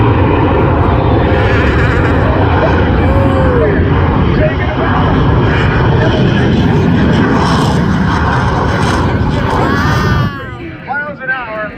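At an airshow, a Pitts S-2S biplane races the Hot Streak II jet truck, producing a loud, continuous roar of engine and jet noise, with crowd babble and an announcer underneath, dropping off sharply near the end.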